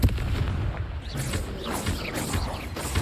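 Confringo spell blasts in the Hogwarts Legacy video game, several booming bursts and crackling impacts rolling one after another over a constant busy low rumble.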